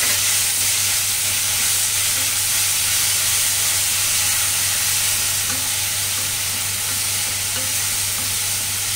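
Ginger garlic paste frying in a pan with whole coriander and fennel for Kashmiri dum aloo, a steady close sizzle and hiss with faint stirring, no talking.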